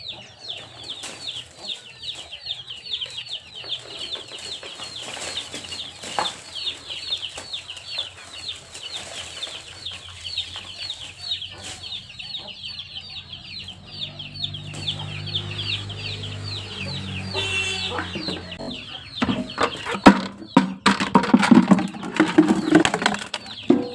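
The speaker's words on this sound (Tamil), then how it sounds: "கோழிங்களே வந்து ஃபுல்லாக வந்து அப்படியே மண்ணை வந்து இப்போ பரட்டி விட்டு" Chickens cluck and flap about while scratching through loose soil on an organic farm bed, a busy steady chatter of birds with rustling and scraping growing louder toward the end.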